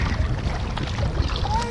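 A canoe is paddled through water past a village swimming area, with soft, continuous water wash and strokes under steady wind rumble outdoors.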